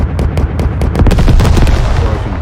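A loud burst of rapid gunshots from the WW2 tactical squad game Second Front, a fast string of sharp cracks close up, followed by a rumbling boom that fades out; no talking.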